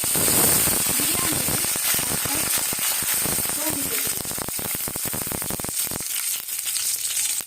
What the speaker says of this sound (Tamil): கடுகு பொரிஞ்சிச்சு. கருவேப்பிலை,